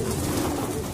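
Pigeons at a pigeon club coo softly in a brief, close, low murmuring burst.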